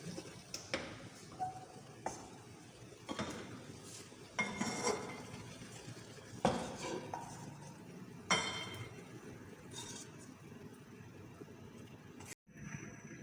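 Besan and sooji halwa is scraped from a pan onto a plate with a metal spoon, giving a series of quiet clinks, taps and scrapes at irregular intervals against a faint background.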